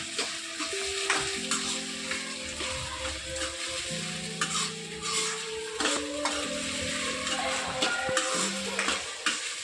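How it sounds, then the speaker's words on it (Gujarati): Browned onions sizzle and fry in a pan as tomatoes are added for pav bhaji, with a steady, close hiss broken by stirring scrapes and clinks of a utensil against the pan. "આપણા કાંદા થોડા બ્રાઉન જેવા થઈ ગયા છે, તો આપણે તેમાં ટમેટા એડ કરી દઈશું"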